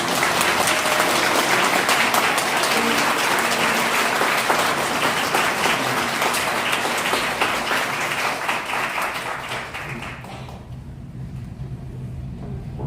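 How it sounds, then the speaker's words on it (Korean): Wedding guests applaud the newly declared couple during the ceremony, a thick continuous burst of clapping that holds strongly for about ten seconds before thinning out and fading in the hall. "두 사람을 향해 축복의 박수 부탁드리겠습니다."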